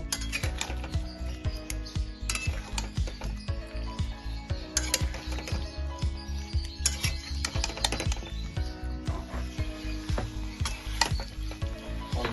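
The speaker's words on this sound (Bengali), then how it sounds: "এবার এটাকে আমি ভালো করে কষিয়ে নেব" Young jackfruit is stir-fried in a pan with repeated rhythmic scraping and clattering of a spatula against metal, a rapid series of sharp ticks and knocks over a soft sizzle, fairly close and continuous.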